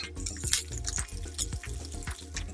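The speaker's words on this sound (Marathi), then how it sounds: "तेल गरम झाल्यानंतर कढीपत्ता याच्यामध्ये आपण टाकत आहोत" Curry leaves and chopped onion sizzle and crackle in hot oil in a pan, a steady close hiss with occasional light clatter and no talking.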